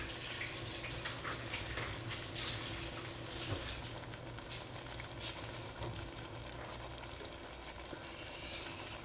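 Shrimp fry in a single layer in a pan, giving a steady, close sizzle with faint clatter and stirring throughout, no voices.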